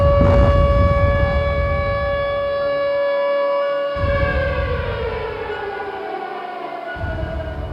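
Civil defense siren wailing loudly in a long, steady rising and falling tone with rich harmonics, set against a heavy low rumble that drops away in pulses, as part of a dark soundtrack.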